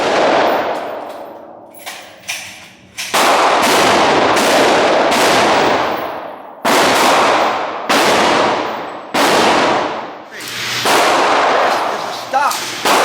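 Gunshots at an outdoor shooting range, a string of loud, close reports with long ringing decays, irregularly spaced a second or two apart, with faint talk between shots.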